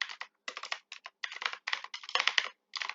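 Fingers type Python code on a computer keyboard in quick close bursts of clicking keystrokes separated by short pauses, with no one speaking.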